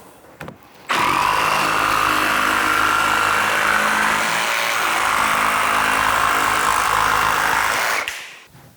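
A jigsaw cuts through vinyl plank flooring from Lowes, a loud, steady high-pitched buzzing that starts abruptly and runs for about seven seconds before cutting off, with no talking.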